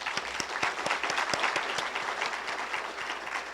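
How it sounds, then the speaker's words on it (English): Audience applause at a 2015 CMO graduation ceremony, a steady round of dense clapping from a crowd, sustained and fairly loud throughout with sharp individual claps standing out. "Let's give all of you an applause."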